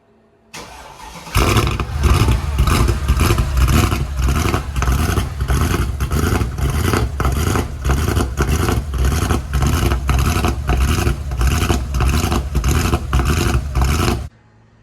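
A Mercedes E55 V8 with a throttle pedal fault cranks and fires, then settles into a loud, lumpy idle with a rhythmic pulsing, close and alone for about thirteen seconds before cutting off.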